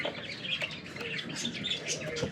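Several small birds, pet doves, finches and budgies, chirp and tweet in quick, overlapping bursts, a busy chorus of high calls close by with no one talking.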